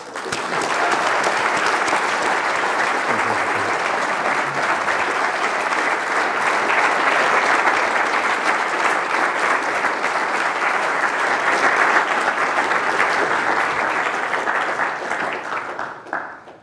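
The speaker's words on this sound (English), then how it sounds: "we give him a round of applause" A lecture audience of family, friends and colleagues gives a long, even round of applause at an inaugural lecture on urban fluid mechanics, the clapping holding steady and full for many seconds before tapering off at the end.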